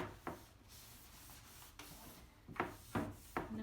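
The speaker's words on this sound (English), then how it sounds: "I can rub it back or rub it in or wipe it back a little bit" A cloth rubs wax into painted wooden furniture in soft, uneven strokes, with several louder brushing swipes near the end, close and quiet, no voices.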